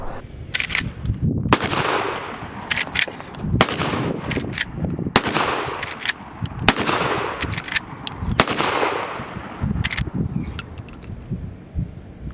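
Repeated sharp gunshots from a Henry Brass Axe .410 lever-action pistol, fired outdoors in a series of loud, close cracks with irregular spacing and some clustered doubles, with no speech.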